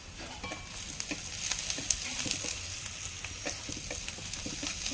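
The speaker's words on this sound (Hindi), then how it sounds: "गोल्डन फ्राई हुआ जाए प्याज को भाजे।" Onions frying in a pan until golden, a steady close hiss and crackle of sizzling oil with light stirring scrapes throughout, moderately loud and continuous.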